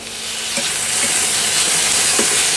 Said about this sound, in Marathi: आता यामध्ये आपल्याला टोमॅटो घालून घ्यायचं आहे